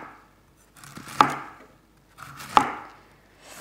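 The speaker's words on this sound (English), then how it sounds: "I'm gonna really just, as finely as I can, slice this" Two crisp knife strokes finely slice fennel into thin rounds on a cutting board, each cut landing as a sharp, close chop about a second and a half apart.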